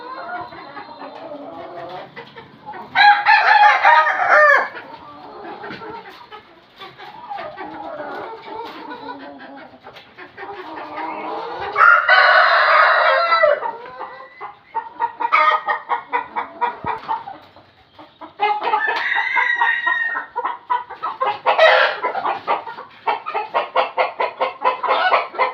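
Chickens cluck and call in repeated bursts inside an indoor home farm, with one sick hen among them, a busy, close flock chorus rising and falling throughout with occasional louder crowing-like outbursts.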